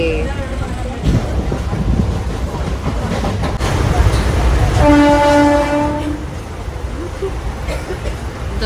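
A train rumbles along steadily nearing Trivandrum, with a long horn blast sounding midway; voices are faintly audible under the rolling noise.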